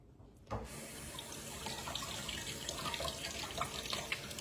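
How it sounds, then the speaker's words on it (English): Tap water runs steadily into a kitchen sink while a lemon is rinsed for lemon bars, a continuous splashing stream that starts abruptly and carries on alone at moderate level. "I'm going to go ahead and rinse it off."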